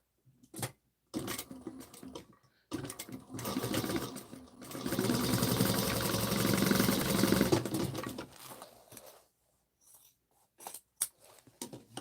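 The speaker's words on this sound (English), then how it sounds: "I'm just gonna sew over this one part one more time just for extra reinforcement." A sewing machine stitching over a bag corner for reinforcement: a steady, close motor whir with the rapid needle chatter running for several seconds, framed by short starts and stops.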